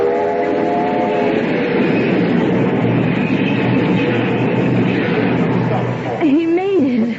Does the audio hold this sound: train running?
yes